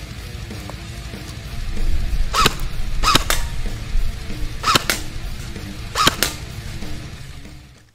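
CM.033 M1A1 Thompson airsoft gun test firing: four sharp, snappy shots, some as quick doubles, crack at irregular intervals over a low steady background hum.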